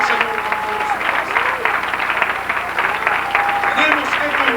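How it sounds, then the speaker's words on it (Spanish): A church congregation applauds during a sermon, producing a sustained, dense wash of clapping from many hands, loud and steady, with voices and shouts of praise rising over it. "Dale un aplauso al Señor con todos ustedes."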